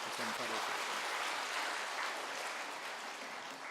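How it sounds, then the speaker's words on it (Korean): A church congregation applauds to welcome a pastor, a steady, full wash of clapping throughout, with a brief voice fading at the start. "우리 박수로 환영하겠습니다."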